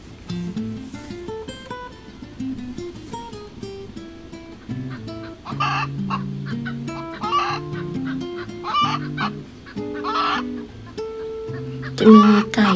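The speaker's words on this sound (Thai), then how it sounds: "ไก่ตัวป้อมๆน่ารักมากเลยค่ะ" Plump chickens cluck repeatedly outdoors among flowering gardens on Öland, Sweden, with several bursts of clucking and squawks at moderate distance over a steady background.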